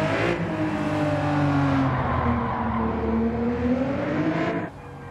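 A Mitsubishi GTO in Gran Turismo 7 drives with a steady, loud engine drone whose pitch dips and climbs as it shifts and revs, ending abruptly.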